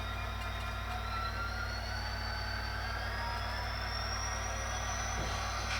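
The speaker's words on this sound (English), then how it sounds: "So now on the equalizer, you can kind of hear the way the engine sounds now." A Tsunami sound decoder in a model train plays diesel locomotive engine sound through a small oval speaker: a steady low idling rumble that holds evenly, with faint tones slowly rising above it.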